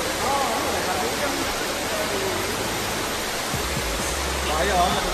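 Rushing waterfall, a steady broadband roar of falling water close by, filling the whole stretch at an even loudness with a brief low thump near the middle.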